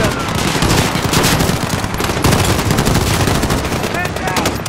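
Dense automatic gunfire and overlapping shots fill a Call of Duty: Modern Warfare (2019) firefight at a residence, loud and continuous for the whole stretch, with faint radio-style voices underneath.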